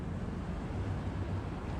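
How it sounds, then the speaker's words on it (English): Faint, steady low rumble of an NYC ferry boat moving slowly on the water off Coney Island, Brooklyn, mixed with wind noise and soft wave wash, heard from a distance. "you're going to see that NYC ferry that we heard"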